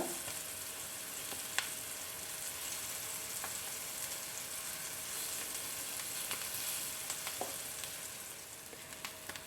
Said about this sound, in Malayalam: ഇനി അല്പസമയം കൂടെ നമുക്കൊന്ന് ഫ്രൈ ചെയ്തെടുക്കാം